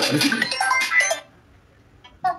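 A short electronic phone ringtone melody plays for about a second, then quiet, then another brief tone at the end.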